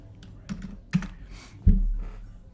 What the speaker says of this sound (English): Let's just type in the word hell.